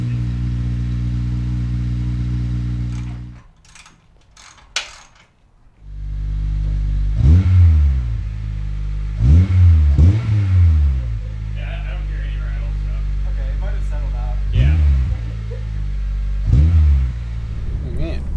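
With a 3-inch full race catback exhaust fitted, an 8th-generation Honda Civic Si drones at idle, goes briefly quiet, then idles again and takes several short, sharp throttle blips that rise and fall, with people talking nearby.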